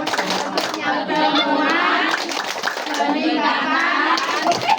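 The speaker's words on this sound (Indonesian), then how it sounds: "Sekali lagi, tepuk" A community family-group session in Kampung Kubang claps together in rhythm, the patterned claps mixed with lively chanting voices of the group, close and steady.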